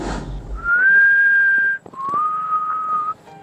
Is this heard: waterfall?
no